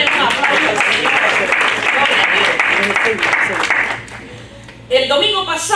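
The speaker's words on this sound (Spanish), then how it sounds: "Desen un aplauso, denle un aplauso, Señor." A church congregation applauds during a Spanish-language worship service, a dense, loud wash of clapping that fades near the end before a brief louder burst.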